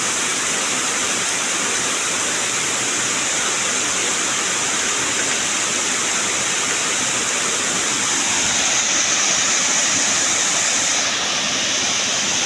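Natural spring water pours and rushes in a loud, constant broadband roar, close by and unbroken for the whole stretch.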